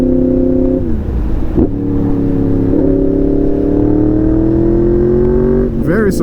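A Yamaha MT-10 motorcycle engine drones loud and close, dipping briefly twice before holding a steady, slowly rising pitch, then blipping sharply at the end.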